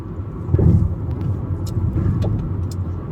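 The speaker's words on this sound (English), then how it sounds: "I'm recording in my car." Low, steady engine rumble and road noise inside a moving car, loud and close, with a few faint clicks and rattles and no talking.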